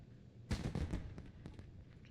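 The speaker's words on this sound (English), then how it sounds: "Giving some fireworks." Video game fireworks go off in a quick cluster of crackling bursts followed by a few scattered pops, moderately loud with no talk.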